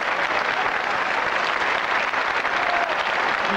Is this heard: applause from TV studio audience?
yes